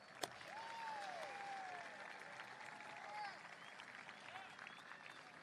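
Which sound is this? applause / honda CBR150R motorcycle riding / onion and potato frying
applause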